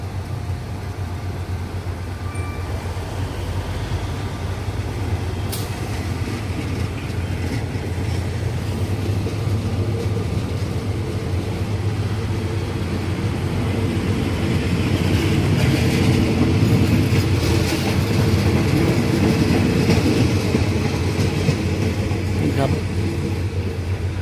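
A passenger train on Thailand's Death Railway rumbles steadily from inside a carriage, a loud continuous rolling drone with occasional clanks; talk can be heard over it.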